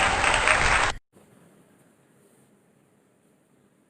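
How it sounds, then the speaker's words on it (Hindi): An audience at a Hindi poetry gathering claps loudly for about a second, welcoming a woman poet from Delhi, then it cuts to quiet room hiss. "एक बार जोरदार तालियों से स्वागत कीजिए कवित्री नमिता राकेश दिल्ली से।"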